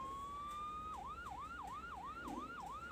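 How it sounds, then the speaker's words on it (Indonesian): A siren holds one rising tone, then switches to a rapid repeating wail. It sounds somewhat distant, with no voices. "Tidak lama kemudian terdengar suara ambulan dari depan rumahnya."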